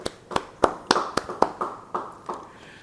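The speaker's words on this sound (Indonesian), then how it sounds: "yang percaya beri tepuk tangan buat Tuhan" A church congregation at a Bible study service claps for God, about nine sharp, irregularly spaced hand claps over a few seconds, fairly faint and moderately close, with no talk over them.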